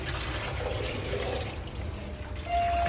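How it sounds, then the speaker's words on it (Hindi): Kitchen tap water running while raw chicken is rinsed, a continuous splashing pour of moderate loudness that swells slightly near the end. "मीनवाइल मैं चिकन को दोबारा एक पानी से निकाल देती हूँ।"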